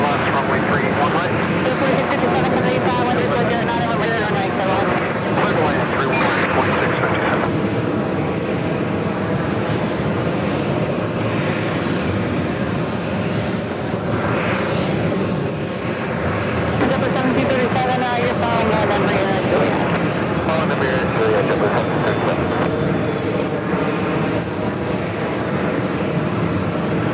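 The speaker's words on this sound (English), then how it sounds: "Let's see if it's an early rotation for this Dreamliner." A Boeing 787 Dreamliner rolls for takeoff at JFK airport, its jet engines giving a loud, sustained roar that holds steady throughout, with people talking over it.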